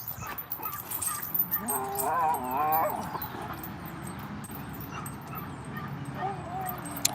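A dog whimpers and lets out high yips with a rising, wavering whine in the middle, fairly close, while someone talks over it in a calm voice.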